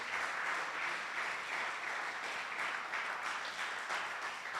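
A church congregation applauds steadily, a dense wash of many hands clapping at even loudness throughout with no voices over it.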